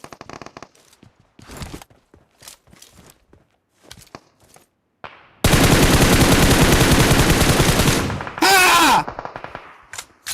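Gunfire in the battle royale game PUBG Mobile during a Global Championship match: scattered single shots and footsteps, then a loud sustained burst of automatic fire followed by a second short burst, with a brief shout.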